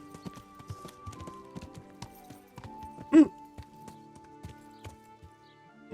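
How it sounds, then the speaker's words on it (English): Horse hooves clip-clopping at a steady trot through a graveyard in the medieval game Kingdom Come: Deliverance, moderately close, with one louder snort or whinny partway through and faint ambient tones behind. "ride me horse through the graveyard"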